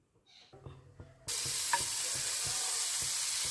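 Potatoes and tomatoes cooking with chili powder, Kashmiri chili powder and salt, opening with soft clinks and scrapes before a loud, steady sizzle bursts in and continues, with faint rhythmic stirring taps beneath it.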